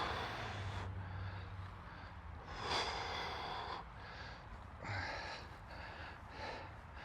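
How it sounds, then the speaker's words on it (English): Slow, deep breaths during an outdoor no-equipment workout cool-down in Ireland: several long, soft airy inhales and exhales at an unhurried pace, close to the microphone, over a steady background hiss. "Slow, deep breath."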